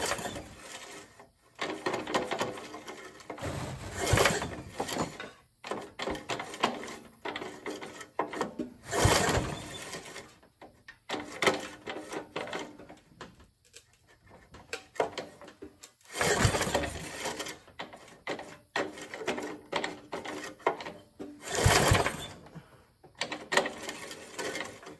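A 1975 Briggs & Stratton small engine, choked and set to low idle, sputters and catches in repeated loud mechanical bursts every few seconds, with rattly running between the surges and no talking.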